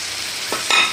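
Chopped green onions, mostly green tops with a little white, tossed into a hot pan of aloo with slight moisture left, giving a loud close sizzle with two quick stirring scrapes near the end.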